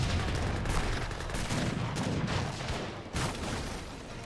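Rapid Gatling gun fire in an Age of Empires battle, a sustained loud crackling barrage of shots with scattered heavier bursts over several seconds.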